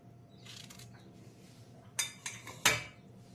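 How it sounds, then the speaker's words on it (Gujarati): Raw unripe mango is cut into pieces, with a soft scrape followed by a few sharp, close clinks and taps of the knife striking a hard surface, and no voices. "આવી રીતે બધી કેરીના ટુકડા કરી લેવાના"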